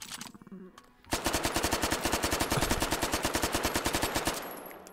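A rapid automatic burst of gunfire from a Zip 22 in the game Hot Dogs, Horseshoes & Hand Grenades, sharp evenly spaced shots running for over three seconds after a few faint clicks, loud and close.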